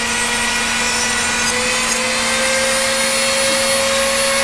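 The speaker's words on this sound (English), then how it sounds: "we're using a power tool to rough out" A loud, continuous whine of a power tool roughing out a wood carving, running steadily, with a constant high hum and rough grinding texture throughout.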